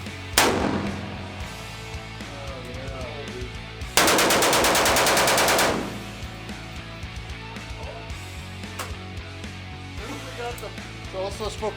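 Primary Weapons Systems rifle, run during a torture test, firing rounds left in its magazine: one loud shot early, then a dense two-second burst of rapid fire, with scattered quieter reports and people talking around it.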